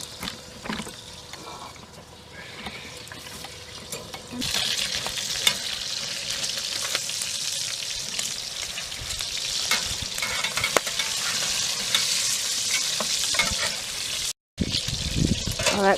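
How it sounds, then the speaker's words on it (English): Bacon fries in a pan with a steady crackling sizzle that swells louder partway through, with occasional stirring clinks and brief talk underneath. "Oh, that bacon smells good."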